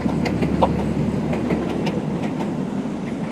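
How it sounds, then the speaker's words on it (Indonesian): A train rumbles past nearby, a heavy continuous roar with rhythmic clacking of wheels over the rails. "Sedulur, kereta lewat, kereta lewat."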